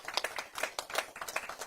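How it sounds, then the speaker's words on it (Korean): Dense, continuous applause from a crowd greets a lawmaker at a party event, steady and fairly close throughout. "큰 박수로 김상욱 의원을 맞이해 주시기 바랍니다"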